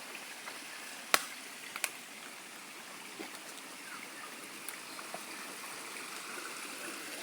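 A small waterfall spills over rocks in a stream, giving a steady, moderately loud rush of water with a few faint clicks and splashes and no talking.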